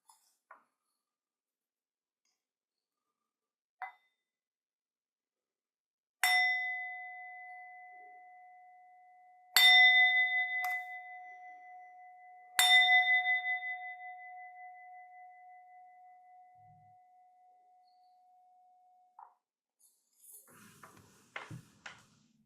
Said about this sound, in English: I will begin a few minutes of silence with 3 sounds of the bell